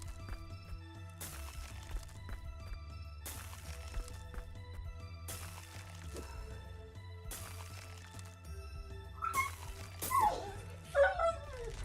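A puppy whimpering and yipping nearby, thin high whines building toward the end over a low steady background hum.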